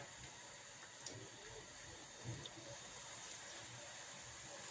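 Sigara böreği pastries frying in hot oil in a pan, giving a steady close sizzling hiss with a few soft pops and no talking.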